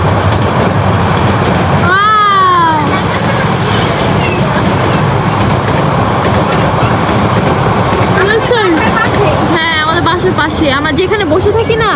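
A train rumbles steadily past close by, loud and continuous, while people chatter and call out over the noise.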